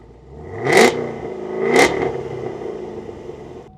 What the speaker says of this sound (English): Man, listen to that LT4 roar.